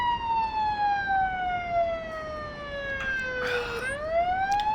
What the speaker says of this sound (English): That's very annoying, that siren keeps on going.